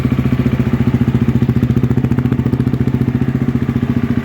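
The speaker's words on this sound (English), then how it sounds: "Engine sounds perfect." A 250 or 350 dirt bike (Husqvarna, KTM or Gas Gas) idles close by after a valve adjustment, its single-cylinder engine making a loud, fast, perfectly even putter with nothing else heard.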